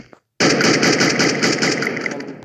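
A rapid, continuous burst of AN94 automatic rifle fire in Free Fire, loud and close, rattling steadily for about two seconds after a brief quiet start.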